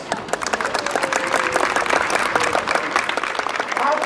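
A crowd applauds steadily for a few seconds at a children's sports festival award ceremony, dense clapping filling the room, with faint voices mixed underneath.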